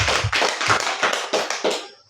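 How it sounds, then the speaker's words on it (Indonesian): At a school gathering, hands clap in a steady, even rhythm, about seven crisp claps close to the microphone, ending with the last one trailing off. "Mari kita berikan tepuk tangan."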